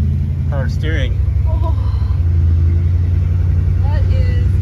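A 1956 Chevy wagon's engine rumbles steadily as the driver floors it, a low continuous growl running beneath excited voices talking and exclaiming over it.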